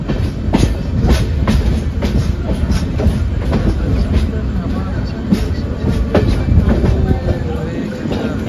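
Moving LHB coaches of the Mangalore express train rolling past at a station platform, a loud continuous rumble with steady rhythmic clickety-clack of wheels over rail joints throughout, close by, with faint voices underneath.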